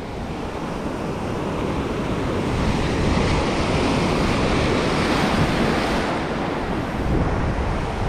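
Strong ocean surf pounds steadily at a fishing spot with rough, building waves, a dense continuous roar with wind buffeting the microphone and no voices.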